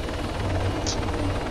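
A helicopter in the military game Arma 3 drones steadily, its rotor thrum and turbine whine holding at an even, close level throughout.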